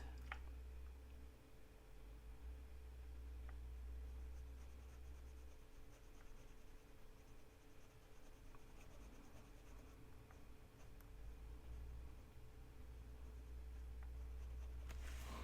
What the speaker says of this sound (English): I have this little orange micro pen. That's what I'm going to draw that in with.